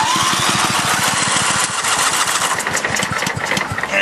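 Craftsman LT4000 lawn tractor engine running loud and close with a fast, steady mechanical chugging, while a pulley knocks rhythmically within the engine noise.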